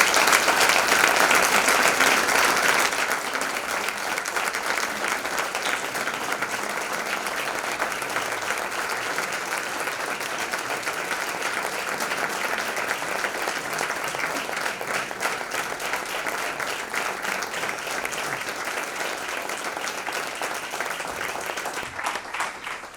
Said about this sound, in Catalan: Vos demane, per favor, un fort aplaudiment per al millor candidat que l'alcaldia d'IBI pot tindre.